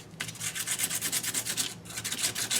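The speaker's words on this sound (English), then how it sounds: "I'm bringing back in my sandpaper and" Sandpaper rubbed over a painted paper clay heart to distress it, a steady run of quick scratchy back-and-forth strokes, close and fairly soft, with no talk.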